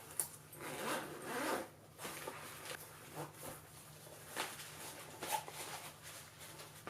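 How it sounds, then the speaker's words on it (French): A zipper on the carrying pouch of a multimeter oscilloscope is pulled open in several quick, close rasping strokes with short pauses between them, with no one speaking. "Alors je vais déjà tout de suite ouvrir la sacoche."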